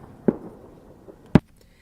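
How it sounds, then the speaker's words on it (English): Two separate firework pops, sharp and short, come about a second apart. The second burst is louder and brighter, and quiet fills the gap between them. "Get some fireworks for us."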